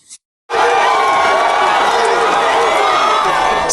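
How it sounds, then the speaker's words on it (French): A jubilant crowd cheers and shouts loudly at a fire station inauguration in Gabon, bursting in suddenly after a brief quiet moment and then sustaining a dense, roaring wall of voices and whoops. "C'est une foule en liesse qui a accueilli le président de la transition à son arrivée sur le site du centre de secours"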